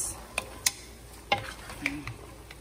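Seafood pancit being stirred and tossed in a pan, with a few sharp scraping clinks of the utensil against the pan over a faint sizzle, spaced irregularly and fairly close.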